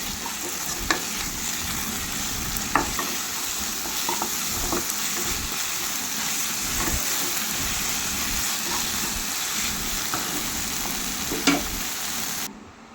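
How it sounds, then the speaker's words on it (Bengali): Fish pieces sautéed in a pan with turmeric and salt: an even, close hiss of frying oil runs throughout, broken by occasional clicks and scrapes of stirring, then stops at the end. "দিয়ে আবারও ভালো করে কষিয়ে নিচ্ছি।"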